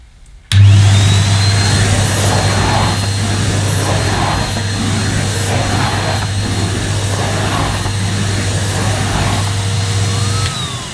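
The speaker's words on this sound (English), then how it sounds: "With the suction valve on the handle closed, Hetty is easy to use on short pile carpets." Numatic Hetty HET160-11 yellow vacuum cleaner running steadily on short pile carpet with the handle suction valve closed, a loud continuous motor whine that switches on abruptly and holds for ten seconds with faint shifting brush noise, no talking.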